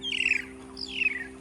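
Two shrill, squawking myna calls ring out a moment apart, bright and fairly close, over a steady low hum, at the Golden Pagoda in Arunachal Pradesh.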